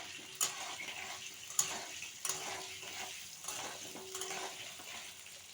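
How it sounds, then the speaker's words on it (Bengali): Potatoes with salt and turmeric frying in oil until browned, a low soft sizzle punctuated by several sharp spatula clicks against the pan. "দিয়ে আমি লাল লাল করে ভেজে নেব।"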